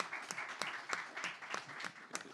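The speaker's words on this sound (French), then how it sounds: "On l'applaudit." An audience at a philosophy forum applauds a speaker, a short burst of dense, steady clapping heard from a moderate distance.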